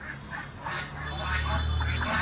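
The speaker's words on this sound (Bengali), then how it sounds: "হাঁস, মুরগি চলছে একসাথে" Ducks quack in a farmyard where goats, sheep, ducks and chickens are kept together, with repeated nasal calls rising over a steady low rumble and a hint of voices in the background.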